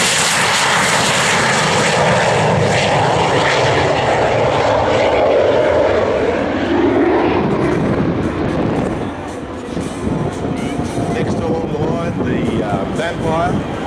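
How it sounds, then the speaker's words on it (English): A Gloster Meteor jet flying at an airshow, a loud sustained engine roar that swells and then shifts pitch as it passes, with no talk over it. "This is the only flying Gloster Meteor in the world, so let's watch it tonight."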